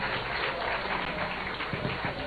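An audience at a Juneteenth commemorative durbar applauds the Women and the Bamboo Orchestra, a dense, even wash of clapping that holds steady throughout, moderately loud and heard from within the crowd.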